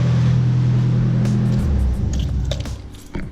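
A Nissan 240SX's turbo SR20DET engine, freshly fitted with a new starter, runs at a steady loud idle close by, then the drone cuts out and gives way to scattered clicks and handling noises.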